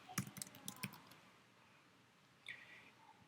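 A short flurry of computer keyboard keystrokes, about six quick clicks, then a pause and one more faint click, quiet and close with no talking.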